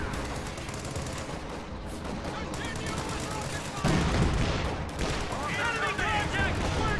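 Infantry support guns in a strategy video game fire continuous rattling bursts over a busy battlefield, with heavier impacts joining midway, while a commentator talks over the gunfire.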